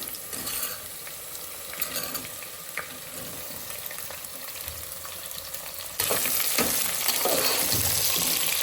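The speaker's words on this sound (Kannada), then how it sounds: "ಈಗ ಈರುಳ್ಳಿ ಹಾಕ್ತೀನಿ" Onion fries in oil in a village-style home kitchen, a continuous crackling sizzle that grows louder and denser partway through, with occasional stirring scrapes.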